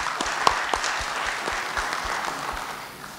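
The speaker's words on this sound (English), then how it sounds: "Please give a big round of applause to him." An audience at a business conference session claps for a speaker, a short burst of applause with distinct individual claps near the start that gradually thins and fades out.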